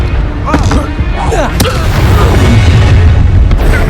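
Confringo fire-blast spells going off in Hogwarts Legacy combat: booming bursts repeat quickly over dense, loud battle noise, with sharp whooshing crackles and a voice shouting spell names.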